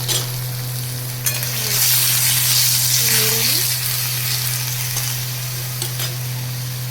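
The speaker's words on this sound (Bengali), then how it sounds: "তেলের মধ্যে পেঁয়াজ বাটা দিয়ে দিচ্ছি।" Onion paste frying in hot oil in a pan for bhindi masala, a loud continuous sizzle with stirring scrapes and a steady low hum, no talking.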